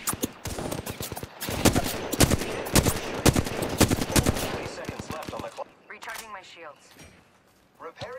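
Video game gunfire fills the first half with rapid, loud bursts of shots, then thins out as a person talks over quieter background sounds.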